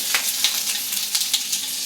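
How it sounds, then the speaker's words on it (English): Steady, bright sizzling of peppers frying in a hot pan, with small crackles and pops scattered throughout, fairly close and continuous. "Sizzling."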